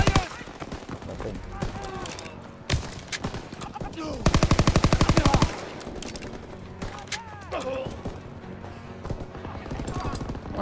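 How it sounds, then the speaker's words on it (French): Automatic machine gun fire in the World War II shooter Call of Duty WW2: a dense, loud burst of rapid rounds mid-clip, surrounded by battle noise, other gunshots and shouted voices. "Ouvre le feu. Que quelqu'un prenne la mitrailleuse."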